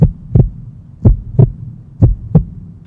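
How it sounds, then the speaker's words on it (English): Slow, deep heartbeat thumps in paired lub-dub pulses, three pairs in steady rhythm, loud and close with a low hum between beats. "he ran with his heart beating fast in his chest"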